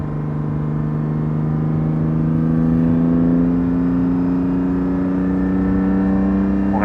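A Porsche 718 GT4 engine drones loudly and steadily from inside the cabin, its pitch climbing gradually as the car accelerates, with a constant low road rumble underneath.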